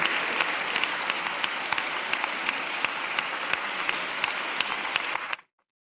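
Dense, sustained applause from a group of journalists in a press setting, steady clapping at an even level for about five seconds before stopping abruptly.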